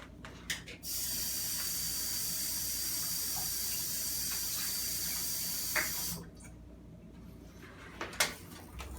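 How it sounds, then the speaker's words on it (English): Water runs steadily from a tap into a cooking pot for about five seconds, a continuous close hiss with small clinks before and after, while gummy bears are made at home. "we're going to put a quarter cup of water in our pot here"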